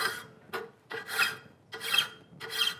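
A metal file rasps across a sawn steel edge, clearing off the saw kerf marks while making a poor man's spokeshave; four close, loud strokes come in a steady back-and-forth rhythm with short pauses between them.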